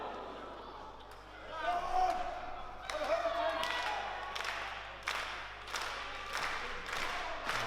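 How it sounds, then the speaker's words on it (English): Wrestling show crowd in Leeds roars and claps in rising bursts, with sharp slams and thuds from the ring cutting through while a commentator talks over the noise. "It's a lively crowd here in Leeds."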